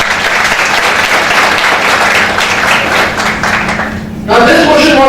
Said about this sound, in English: Can we have a round of applause for all these people who answered out here?